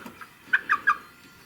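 Purebred Wyandotte hens in a backyard flock, giving three short, clear clucks in quick succession over faint background noise, with a couple of softer calls before and after.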